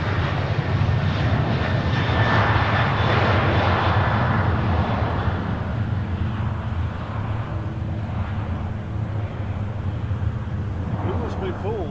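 A heavily loaded airliner roars down the full length of a Nashville airport runway on takeoff, its jet engines a loud, steady rumbling roar that slowly fades as it climbs away, with people talking faintly underneath.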